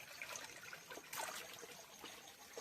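Water seeping and trickling out of a broken stone retaining wall after two days of heavy rain, a steady faint dribble with small splashes, close by and without speech.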